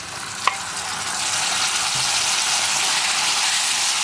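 Cooked pumpkin with Kashmiri chilli powder and chilli flakes frying in a pan for a Kerala mezhukkupuratti, a steady close sizzle and stir with one sharp clink of a utensil near the start.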